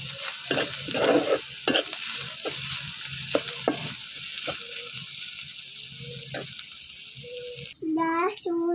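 A three-year-old girl stirs fish frying in a pan, with steady sizzling broken by repeated scraping stir strokes, and a voice chimes in near the end.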